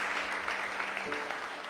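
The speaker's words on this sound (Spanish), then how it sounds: "Dele una ofrenda de palmas al Señor, gloria a Él" Church congregation clapping together as an offering of praise to the Lord, a steady, dense wash of applause from many hands with no voices over it.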